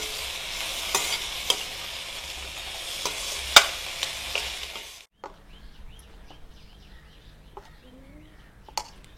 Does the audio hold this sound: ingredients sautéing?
yes